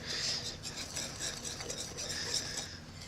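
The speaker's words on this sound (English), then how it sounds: "Now, mix this all together." Pumpkin bread batter with extra cinnamon being stirred in a bowl, quiet scraping and clinking of a utensil against the dish in a repeated, uneven rhythm, close and alone.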